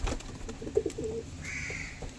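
Pigeons being let out after a long time coo softly amid faint background noise, with a couple of low calls and a thin higher tone near the end.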